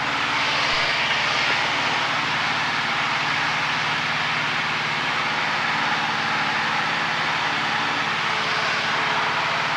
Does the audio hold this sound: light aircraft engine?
yes